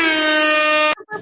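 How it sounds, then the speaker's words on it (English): A loud, blaring air horn blast held for about a second, then cut off abruptly, followed by a short fragment. "we gotta drop my air horns."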